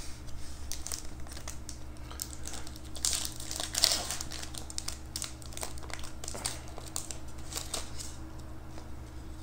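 A Pokemon TCG XY BREAKthrough booster pack wrapper is torn open close by, giving steady crinkling and rustling foil with a brief louder rip in the middle, no voices.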